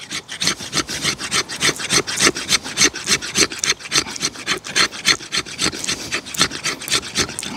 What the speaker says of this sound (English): Yep, fat wood scrapes well.